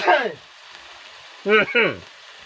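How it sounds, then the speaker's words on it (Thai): Crispy pork cracklings stir-fried with chili and salt in a pan give off a steady close sizzle, broken by a few short vocal exclamations. "ผัดให้หอมครับ เดี๋ยวจะมาปรุงกัน"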